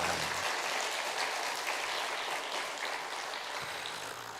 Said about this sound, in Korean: 우리 여전대 박수 한번 해주세요